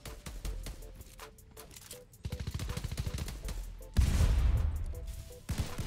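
Fortnite gunfire rattles in rapid automatic bursts, some close and punchy, others more distant, with dense repeated shots and heavy blasts through the middle and end, no talk.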